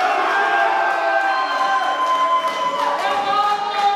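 A large audience cheers and shouts continuously throughout, a dense roaring crowd with whoops rising and falling, steady and loud with no clear voice on top.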